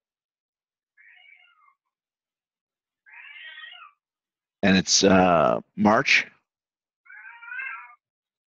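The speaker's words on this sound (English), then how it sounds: "He stands by the door and meows until someone" A house cat meows repeatedly by a door, several separate drawn-out calls spaced apart, with people talking briefly in between.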